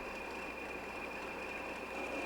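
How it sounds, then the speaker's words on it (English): Two Class 20 diesel locomotives haul the morning ballast train at Chester, heard as a steady, continuous rumble of engines and rolling stock with a constant high whine running throughout. "two Class 20 locomotives on the morning ballast train"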